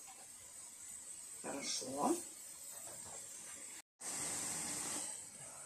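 Steady broadband hiss of chicken wings frying in oil in a pan, with a brief pause, while a person speaks briefly nearby.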